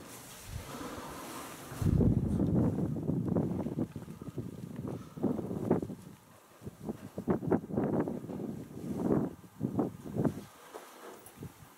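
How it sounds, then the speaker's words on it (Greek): Very strong wind gusts roar through an empty military camp with loose objects knocking together, loud, rough and continuous, with sharp knocks and rattles breaking through from near the microphone. "Ο αέρας είναι πάρα πολύ έντονος. Πολλά αντικείμενα ακούγονται να χτυπάνε μεταξύ τους."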